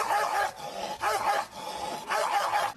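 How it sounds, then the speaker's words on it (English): A dog barks in three separate bursts at a steady pace, fairly close and loud. "if you think the barking is bad"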